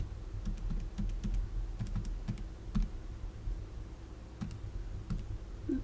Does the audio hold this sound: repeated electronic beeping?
no